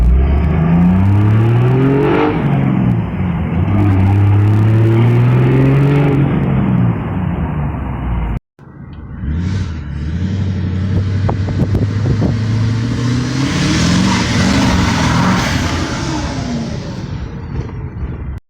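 A modified diesel truck engine, a 2001 Ram 2500 with a 24-valve Cummins, revs loudly and repeatedly in two separate bursts, with a brief gap between them and rising and falling engine tones throughout.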